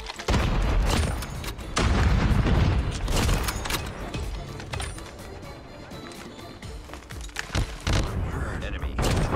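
A frag grenade goes off in a competitive first-person shooter match: a loud booming blast among bursts of gunfire and mechanical clatter, with a player talking over the action.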